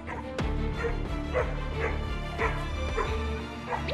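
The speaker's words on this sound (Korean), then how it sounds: "그 순간 뭔가에 반응하는 녀석. 맹렬하게 짖기 시작합니다." A small dog barks fiercely on a walk, a string of loud, close, sharp yips and barks in an irregular rhythm with whimpering between them.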